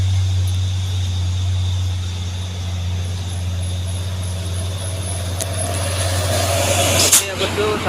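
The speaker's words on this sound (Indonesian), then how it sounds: "di belakang ada satu unit mobil trailer" A trailer truck labors up the Bukit Kodok hill climb, its heavy engine droning low and loud throughout, with a sharp hiss of air near the end as it passes close by.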